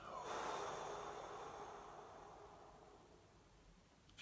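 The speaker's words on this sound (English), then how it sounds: "Let's just take some deep breaths" A single long, close breath, exhaled or drawn through the nose, during a guided meditation session, loud at first and then gradually fading over several seconds, with a soft sniff near the end and no voice.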